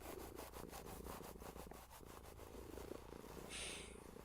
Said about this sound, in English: Kitty likes ear scratches, doesn't he?